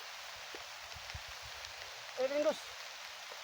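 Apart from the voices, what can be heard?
heavy rain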